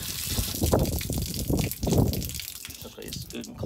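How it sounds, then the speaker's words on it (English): A trailer faucet runs pink antifreeze-tinged water during winterizing, a gushing, splashing flow with uneven surges that sits close to the microphone. "Let all the pink water come out of that too. Let it run until there's no pink water."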